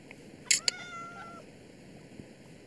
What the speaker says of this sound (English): No, you're a big cat.